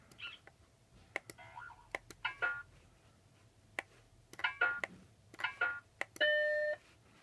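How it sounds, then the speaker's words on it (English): Macintosh Plus computer cycling through its selectable alert sounds: a string of short electronic chirps, warbles and clicks in bursts, finishing with a louder held tonal beep, close up with a faint hum beneath and no voices. "It's also got different sounds that you can set it to"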